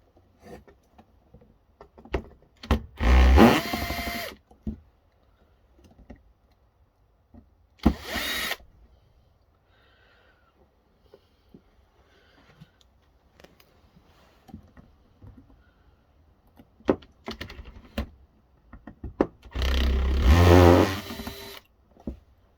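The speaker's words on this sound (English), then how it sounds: "just keep unscrewing the rest of it till we get these components out." Screws being removed from an old VHS video recorder with a power driver, three loud whirring bursts separated by quiet stretches of small clicks and handling noises.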